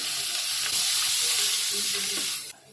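Cumin seeds and asafoetida hit hot oil in a pan, giving a loud, steady sizzle and crackle that spits for a couple of seconds before dropping down quieter.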